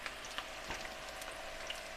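Pakoras fried in hot oil give a soft, steady crackling sizzle with scattered pops, faint and alone.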